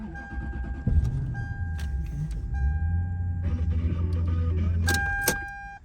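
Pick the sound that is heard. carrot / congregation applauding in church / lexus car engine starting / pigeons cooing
lexus car engine starting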